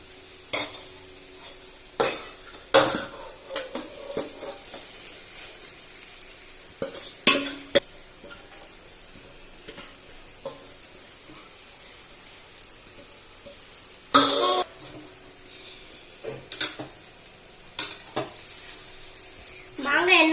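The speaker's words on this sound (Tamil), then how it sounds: "மாங்காய் எல்லாமே சோத்தோட மிக்ஸ் ஆகுற மாதிரி எல்லாம் கலக்கலாம்." Mango rice is stirred in a pan, with repeated scraping and clinking of a spoon against metal coming in irregular bursts over a faint, low sizzle, all close by.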